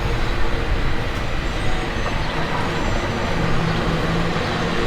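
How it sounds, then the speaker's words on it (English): A San Francisco cable car climbs a Chinatown hill with a continuous, fairly loud rolling rumble and rattle, steady throughout with no clear breaks. "The cable car is going up and down."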